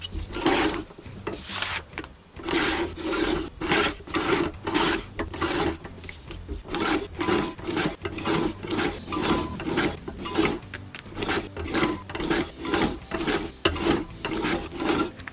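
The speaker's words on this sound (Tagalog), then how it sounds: "pwede natin siyang i-cut ng ating sliding cutter" A sliding cutter slices through laminated paper with repeated rhythmic rasping strokes, close and steady, with no voices.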